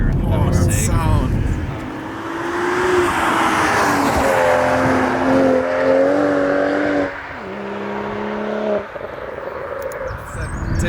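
BMW M135i hatchback engine droning and revving, with harmonic engine tones rising and shifting through gear changes, loud and close throughout, partly augmented through the car's speakers.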